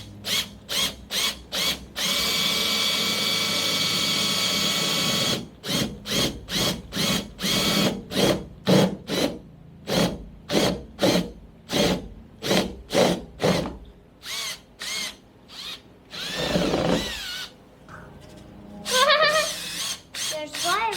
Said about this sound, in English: We're going to drill a hole in the side so we can put our torch in here.